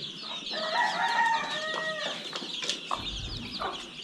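Village chickens and chicks on a Konkan poultry farm cluck and chirp in a scatter of overlapping calls, moderately close, with a brief low thump near the end.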